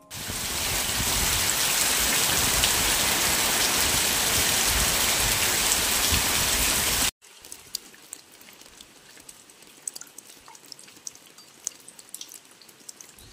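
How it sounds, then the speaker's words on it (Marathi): Heavy monsoon downpour drumming loudly and steadily for about seven seconds, then cutting to quieter scattered drips and patter. "बापरे काय पाऊस पडतोय."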